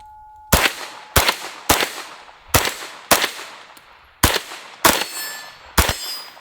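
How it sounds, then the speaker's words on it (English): Suppressed rifle fired in quick bump-fire bursts: about nine sharp, close reports in uneven clusters over several seconds, each followed by a brief metallic ring. "That was an accidental bump fire."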